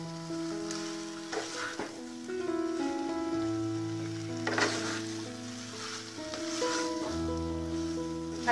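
Prawns being stirred and mixed in a pan with raw jackfruit, a soft steady sizzle with scraping and clinking of the spoon against the pan, quiet and close with no voices.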